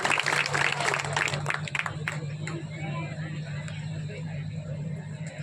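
A crowd claps loudly at an unveiling ceremony during a Bhim Jayanti celebration in Georai, the applause thinning out over a few seconds while a low steady hum and faint chatter continue underneath.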